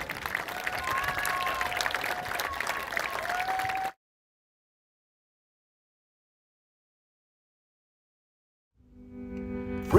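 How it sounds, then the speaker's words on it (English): Crowd applause for seniors at a girls high school soccer game, a moderate spread of clapping with a few cheers over a whistle-like tone, cutting abruptly to silence before a louder jumble of sound returns at the end. "Ladies and gentlemen, one more big round of applause for our seniors."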